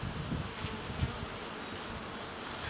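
Honey bees buzz around an opened hive frame that holds larvae and cells being capped, making a faint, steady drone close by with small swells, and no one speaks.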